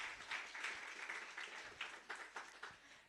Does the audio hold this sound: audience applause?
yes